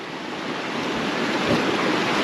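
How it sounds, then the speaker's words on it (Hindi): A river in Siran Valley, Mansehra, rushes fast over stones, giving a loud, continuous broadband roar with no pauses and no voices. "शोर की आवाज़ सुन सकते हैं आप, पानी के शोर की कि कितनी तेज़ी से बह रहा है।"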